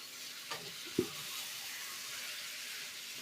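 Egg chicken sautés in a pan with a soft, even sizzling hiss, punctuated by one or two brief knocks of the stirring spoon; fairly faint and steady throughout.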